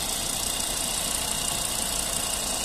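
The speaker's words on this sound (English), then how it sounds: "engine sound nice and smooth" A Volvo V70 2.5T petrol estate with automatic all-wheel drive idles at a quiet, even level, a smooth steady hum and hiss with no variation or talking.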